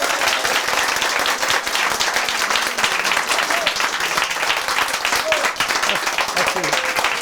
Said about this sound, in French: Et à 3, on applaudit